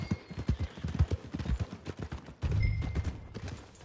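Horse hooves clip-clop at a steady trot in a PS4 game, loud and close, with a brief, heavier stretch of louder thudding near the end and no talk.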